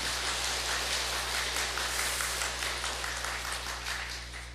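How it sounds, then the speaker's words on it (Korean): Congregation applause during a church worship service honoring the women's fellowship, a continuous, dense hiss of many hands clapping at an even level over a low electrical hum, tapering slightly at the end. "박수 한번 주시기 바랍니다."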